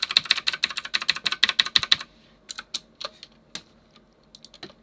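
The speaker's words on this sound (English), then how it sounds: "It's a loud keyboard. Yeah, it is a loud keyboard. Yeah, it's very loud. It makes a clicky sound." Typing on a loud, clicky computer keyboard, a quick run of sharp close keystrokes for about two seconds, then a pause and slower, sparser clicks trailing off.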